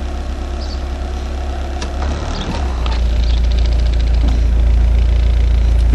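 Idle of a 1992 Honda Prelude with a JDM H22A VTEC engine swap and an idle surge problem, a steady low engine drone after being shifted into drive, swelling slightly louder partway through, with no talk.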